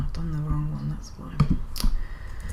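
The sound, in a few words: typing on a computer keyboard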